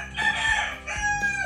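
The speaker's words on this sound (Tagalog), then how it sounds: "Ayun, manok." A rooster crows close by in the Philippines at night, one full loud crow with its rising and falling call and the start of another.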